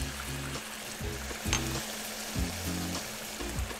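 Chicken fajita sizzles steadily in a hot pan, seasoned with curry, black pepper and salt, a continuous close frying hiss with a few brief stirring bumps and no talk.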